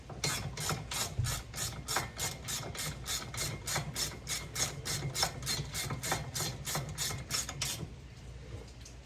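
A ratchet clicks in fast, even bursts while tightening the brake bolts on a 1981 Corvette, close and steady for about eight seconds before stopping.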